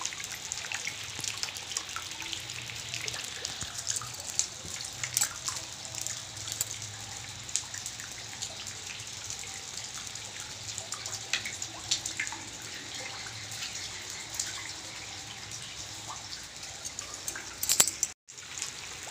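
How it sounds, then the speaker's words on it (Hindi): Floodwater lapping around and inside a house, a steady soft wash of moving water with faint splashes, continuous and fairly quiet throughout. "अंदर तक पानी, क्वार्टर के अंदर भी घुस गया पानी।"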